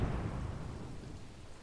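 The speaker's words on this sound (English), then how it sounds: "I like the rain. I think it's like a nice effect on this map here." Steady rain ambience from the Port of Hamburg map in the video game Company of Heroes 2, a dense, even hiss with low rumbling underneath, continuous and moderately loud throughout, with no talk.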